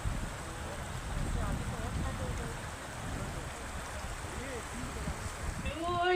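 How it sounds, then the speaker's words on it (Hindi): Water flows over stones in a stream, a steady rushing babble at moderate level, with a voice talking over it and a brief melodic tone near the end. "ये नीचे आप देखें पत्थर है और पत्थरों के ऊपर से पानी आ रहा है"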